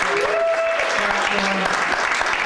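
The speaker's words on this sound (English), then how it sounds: "How about a big round of applause for our military?" Comedy club audience applauding for the military, a dense wash of clapping that fills the whole stretch, with a comedian's voice briefly audible over it at the start.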